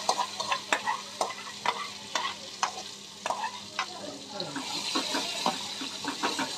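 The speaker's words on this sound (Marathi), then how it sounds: "जरी शिजलेलं असलं तरी ते तुपामध्ये फ्राय करावंच लागणार." Cooked peas are stirred in ghee in a pan over low heat: frequent crisp spoon taps and scrapes ring out over a soft, continuous sizzle.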